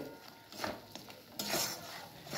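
Mashed beans are slowly stirred in a pan with a utensil, giving soft, faint scraping and clinking strokes in an irregular rhythm, with a light sizzle underneath.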